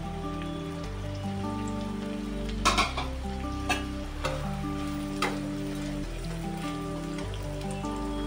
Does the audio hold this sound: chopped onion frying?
yes